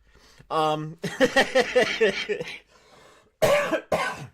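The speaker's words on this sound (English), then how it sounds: "I'm so sorry about coughing like that on the microphone" Harsh, close coughs bark right into a microphone, two sharp bursts near the end, with someone talking just before them.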